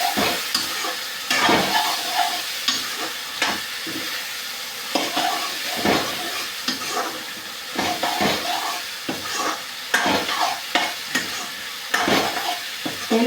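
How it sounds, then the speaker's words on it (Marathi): Vegetables for tinda (dhemse) bhaji fry in oil in a 25-year-old iron kadhai while a spoon stirs them, giving repeated scraping strokes over a continuous close sizzle. "तशा प्रकारे आपण मिक्स करून घेऊया."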